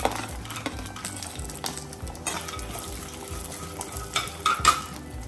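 Garlic and green chillies fry in hot oil for a tempering for bisibele bath, a continuous sizzle mixed with scraping stirring strokes and occasional clinks of the spoon against the pan.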